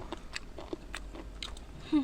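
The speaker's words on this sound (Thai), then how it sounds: "ขอเคี้ยวมะนาว" Wet, rhythmic chewing of lime during a meal of pepper-crusted bone-in pork chop steak, a string of soft close bites and mastication sounds followed by a brief hum-like vocal noise at the end.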